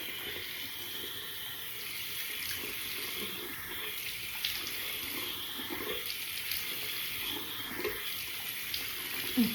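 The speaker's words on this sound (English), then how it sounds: "So I'm gonna go in with water and rinse my face." Water runs steadily from a tap into a sink during face rinsing, a continuous hiss with small splashes and irregular wet sounds, close and moderately quiet.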